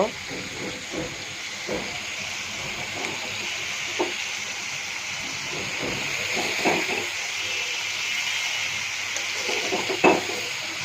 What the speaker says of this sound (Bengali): এখন এটা ভালো করে লাল লাল করে ভেজে নেব।